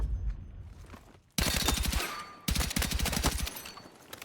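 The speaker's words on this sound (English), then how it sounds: "You can still move and shoot with the 6H 64." Rapid automatic gunfire from the 6H 64 in the video game Battlefield 6, loud, close bursts with sharp repeated shots, a brief pause, then another sustained burst.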